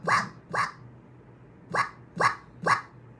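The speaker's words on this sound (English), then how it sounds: "We're gonna chop up Pochita's bark to make it sound drum-ish" The cartoon dog Pochita from Chainsaw Man barks five times in short, punchy bursts, two close together, then a pause, then three more in a quick rhythm, loud and clear.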